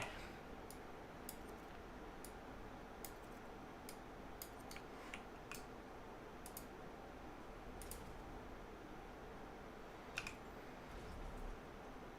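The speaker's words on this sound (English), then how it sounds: "Just hitting all the wrong keys." Someone types on a computer keyboard while building a map in Halo Infinite Forge, producing irregular, quiet clicks and clacks over a steady low background hiss.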